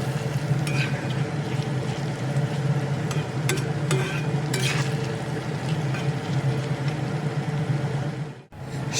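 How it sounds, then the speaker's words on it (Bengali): Ginger garlic paste frying in a pan while being stirred for a home-style katla fish curry, a continuous close sizzle with scraping stir sounds, steady throughout and ending abruptly, no talking. "সব উপকরণ ভালোভাবে ভেজে আদা রসুনের গন্ধ দূর করে নিয়েছি"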